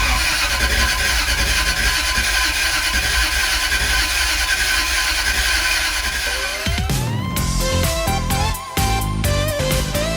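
A stubborn classic Jaguar S-Type V8 cranks over with a steady, loud churning whir for several seconds, then catches and fires into a running engine note, close up.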